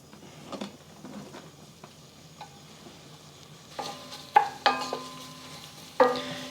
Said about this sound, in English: and we're going to add our shallots